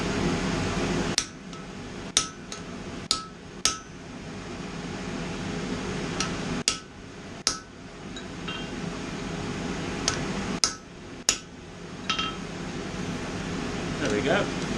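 Hammer blows ring on a steel horseshoe held on an anvil while forging a fish ornament: roughly a dozen sharp, close metallic clangs at irregular intervals over a steady background hum.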